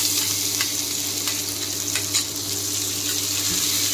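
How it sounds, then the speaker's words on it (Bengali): Gobindobhog rice fries in a pan with cashews and raisins, a close, steady sizzle with a few soft scrapes of stirring and a low hum underneath, and no speech. "এখন আমি এই মেখে রাখা গোবিন্দভোগ চালগুলো দিয়ে দেব।"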